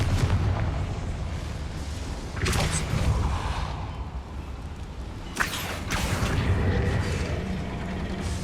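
Confringo fire spell in Hogwarts Legacy bursting in two loud explosive blasts, each with a sharp crack and a rolling rumble, set over continuous low game noise.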